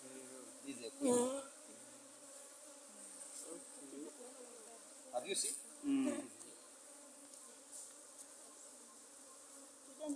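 Honeybees buzz at a hive in Uganda, a steady close drone while a person talks nearby, with a few louder passes of bees flying past.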